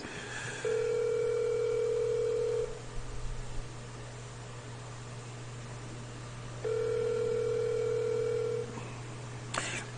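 A telephone call rings out unanswered, two long electronic ring tones a few seconds apart over a steady low hum, with silence between them and a brief click near the end.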